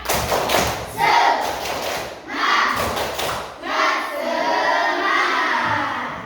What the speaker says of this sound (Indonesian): Ibu Guru kita akan melakukan tepuk semangat biar nanti diskusinya lebih semangat lagi ya